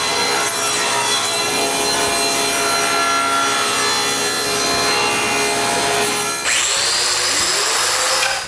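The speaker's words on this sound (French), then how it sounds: "je coupe des restes de contreplaqué avec un angle de 45 degrés" Plywood offcuts being sawn at a 45-degree angle in a woodworking shop, a steady loud whining cut running for about six seconds, then a pitch change as the blade frees and spins down.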